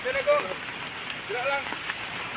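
Heavy rain pours outside a chapel in Matalam, Cotabato, a steady dense hiss of drops, while a voice talks over it.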